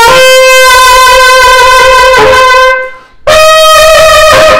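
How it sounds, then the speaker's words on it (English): Brass horn sustaining a bright jazz tone with old-school hand vibrato, a loud close phrase broken by a short pause before the note resumes, played alone. "which is the hand vibrato, which sounds like this."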